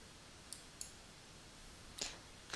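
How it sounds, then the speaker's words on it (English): A computer mouse button clicks faintly during desktop image-processing work: two light single clicks, then a slightly louder double click about a second later, close and dry against quiet room hiss. "clicked the wrong mouse button."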